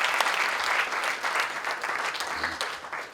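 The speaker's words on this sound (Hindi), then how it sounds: "जरा जोरदार ताली हो जाए" Loud, sustained applause from an audience at a national poets' gathering, steady crowd clapping running throughout without pause as a poet is welcomed to the stage.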